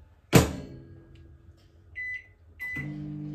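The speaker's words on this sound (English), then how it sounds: "Let me put it in the microwave." A kitchen microwave oven door shuts with a solid thump, a few keypad beeps follow, and then the oven starts up with a steady, close, low hum.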